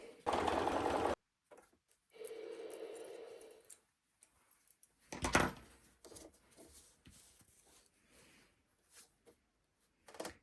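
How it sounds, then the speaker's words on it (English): A sewing machine stitches small rectangular quilt pieces for a mini quilt wall hanging, running in several short bursts separated by pauses and quiet handling sounds. "now we're going to just sew up these into little rectangles"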